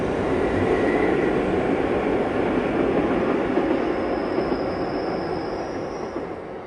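A train rumbles steadily across the Solis Viaduct, a stone railway bridge on the Bernina Express route in Graubünden, Switzerland: a continuous heavy roar of wheels on rails with a faint high squeal rising midway.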